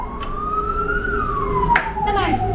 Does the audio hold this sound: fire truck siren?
yes